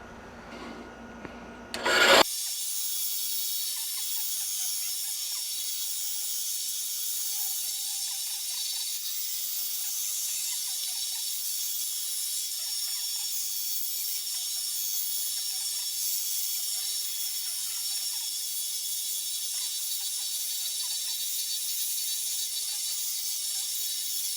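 An electric power tool whirs to life after a brief rattle and runs steadily with a loud, high-pitched buzzing drone, with no talking.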